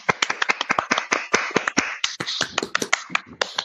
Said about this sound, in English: We don't have the button to make the round of applause, but I'm gonna do it from this way.